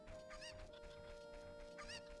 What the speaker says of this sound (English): Okay, so you can see there's a bunch of chickens around, right? More cuckoos.